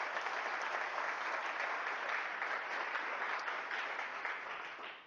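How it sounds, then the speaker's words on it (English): An audience at a Smart City Challenge event gives sponsors a round of applause, a steady wash of many hands clapping at moderate distance, sustained throughout and tapering slightly at the close. "Let's give them one more round of applause."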